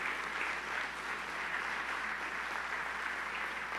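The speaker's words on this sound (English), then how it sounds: "Let's give her a round of applause, ladies and gentlemen." An audience at an app launch ceremony gives a round of applause, a continuous, even wash of clapping at moderate distance that holds steady throughout without a clear peak or fade.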